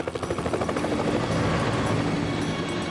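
Helicopter in flight lifting a heavy suspended load such as a bridge section, its rotor thudding in a steady rapid pulse, loud and close, with no talk.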